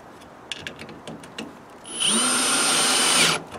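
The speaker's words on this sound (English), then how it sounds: "And I'm drilling them, or screwing them in." A power drill whirs briefly as it drives a screw into a wooden block on a barn door track, preceded by a few knocks and scrapes, close and fairly loud.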